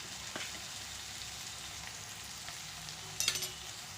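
Spices frying in a pan with chilli powder and coriander powder, stirred together, make a soft, steady sizzle. A few light scrapes sound, then a brief louder clatter of the spoon near the end.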